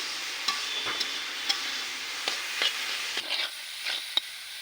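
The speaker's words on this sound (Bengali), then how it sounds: "আরেকটু নেড়ে চেড়ে নিচ্ছি আসলে হয়ে গেছে আমার শাক ভাজি" Potato greens fry in a pan and are stirred, giving a constant soft sizzle broken by sharp scraping taps of the utensil against the pan.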